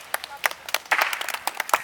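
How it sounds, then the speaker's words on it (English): Students clapping during an outdoor English lesson, a few sparse, uneven claps close by, with voices talking between them. "We clap for them."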